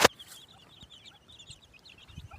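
Free-range desi hens and their chicks foraging through grass, giving soft, scattered clucks with thin chick peeps overhead, faint and fairly distant in an open outdoor setting.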